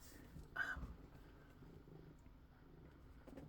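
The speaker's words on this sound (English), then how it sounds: "Very affectionate cats." A cat purrs softly at close range, a quiet low rumble that runs steadily under faint room noise with no talking.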